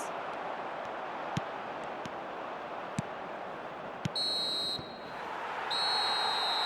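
A referee whistle in the eFootball 2025 football video game sounds as two sustained, shrill blasts near the end, over a steady crowd-noise bed with a few soft clicks.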